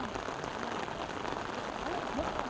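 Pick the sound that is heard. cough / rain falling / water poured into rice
rain falling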